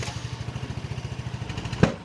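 A small scooter engine runs unevenly with a rapid, lumpy putter and slightly irregular pulses, close by, ending with a sharp knock near the end.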